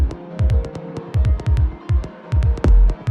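Heavily distorted, thumping electronic hits drenched in fully wet reverb inside Ableton, pulsing in an uneven rhythm with booming low thuds, sharp clicky transients and a long washy tail behind each hit.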